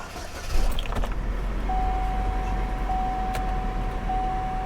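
A Chevrolet Malibu at a salvage auction yard cranks and starts, settling into a steady low engine hum with a faint electronic chime ringing over it.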